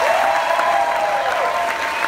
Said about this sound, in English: Please make some noise for all three couples.